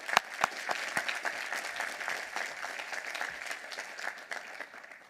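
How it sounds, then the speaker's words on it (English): Commencement audience applause at a university graduation ceremony, a dense sustained round of clapping with sharp individual claps standing out, fairly distant and even throughout. "I think that deserves a huge round of applause"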